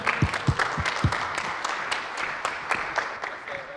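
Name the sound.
audience applause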